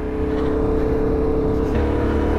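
A motorcycle with ABS drones steadily at close range on a test track, holding a constant engine tone that shifts slightly near the end.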